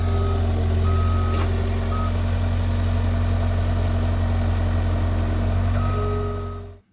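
A skid steer idles with a steady low engine drone while a truck-style reversing beeper chirps at regular intervals, close and loud, and the sound fades out at the end.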